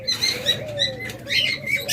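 Doves at a bird farm cooing in soft, low, repeated calls close by, with faint chirps and the flutter of wings mixed in.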